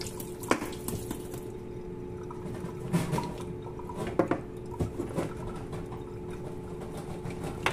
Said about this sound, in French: je vide ce qu'il y a dans le tuyau d'eau